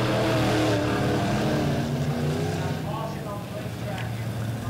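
Midwest modified race cars roaring around Lebanon Midway Speedway at the start of a heat race, a loud pack of engines droning and shifting pitch, with an announcer talking over them.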